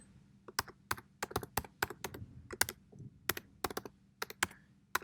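Quiet, close clicking of keys on a computer keyboard as a password is typed, in an uneven run of quick taps with no talking.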